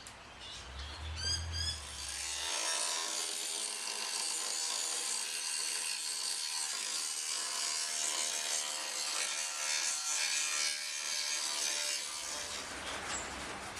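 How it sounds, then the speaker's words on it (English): A steady, high-pitched grinding whine runs for about ten seconds as a power tool cuts away metal on a 1960 Chevrolet Impala body, preceded by a brief spin-up and trailing off at the end. "So I'll grind away and we'll see what happens on the inside of that"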